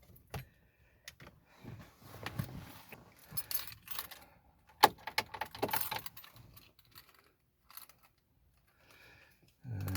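A set of car keys jangles in short bursts near the ignition of a 2005 Chevrolet Venture minivan, with scattered metallic clinks and rustling handling sounds, close and fairly quiet, separated by brief pauses.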